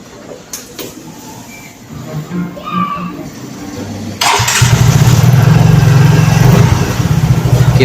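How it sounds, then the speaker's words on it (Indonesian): A fuel-injected Yamaha Mio scooter with a misfiring, hard-starting engine is cranked and fires up halfway through, then settles into a loud, steady idle close by after some quieter clicks and shuffling. "Saatnya kita tes ya, apa motor ini bisa menyala dengan baik."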